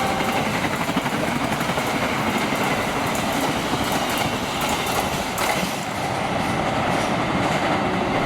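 The Argo Merbabu passenger train rushing past close by, loud continuous rumble with rhythmic clickety-clack of wheels and a faint squeal, no voices.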